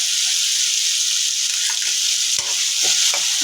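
Green chili and garlic paste with softened tomato sizzles loudly and steadily in a pan while the filling for a paneer cheese paratha is made. A few soft scraping taps from stirring punctuate the hiss.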